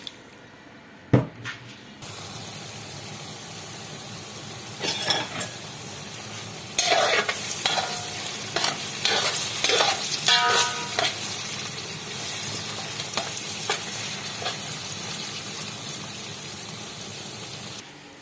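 Eggplant and onion sizzle and fry in oil in a pan on the stove, a steady hiss punctuated by bursts of clattering stirring, loud and close with no talk.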